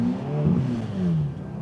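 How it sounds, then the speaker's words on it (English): Ferrari sports car exhaust note, a short, close engine drone that swells and falls in pitch over about a second and a half, with no voices. "let's listen to the exhaust clip behind this"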